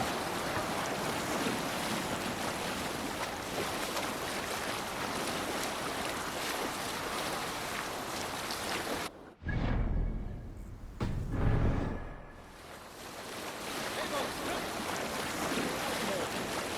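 A rowing boat pushes through breaking waves in the Assassin's Creed Valhalla video game, with a steady roar of surf and wind broken by two heavy, close splashes of water midway.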